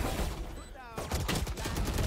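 Gunfire in a Valorant match rings out as a rapid burst of shots, dense and loud, with a short lull before more firing resumes, under a busy game mix.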